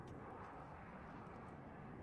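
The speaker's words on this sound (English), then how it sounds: "That's a plane." An airplane in the video game WARNO passes overhead as a steady, faint, distant engine drone and broadband rush, with no talk.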